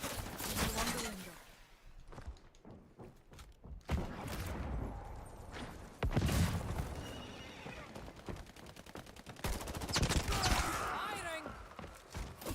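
Gunfire crackles in bursts through the shooter game High Guard, mixed with horse whinnies, hoofbeats and other game effects, loud and busy with sharp transients scattered across the stretch.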